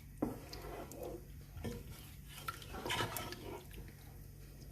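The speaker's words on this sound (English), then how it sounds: "Just going to mix it all together." Chicken jalfrezi is mixed in a pot with a utensil, giving soft scrapes, clinks and wet stirring sounds at an irregular pace, close and fairly quiet with no talk.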